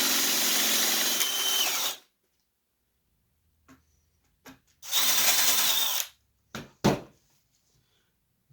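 A power drill whines close up, driving screws into a monkey figure to reinforce it: a long burst, a pause with a few small taps, then another long burst and two short blips.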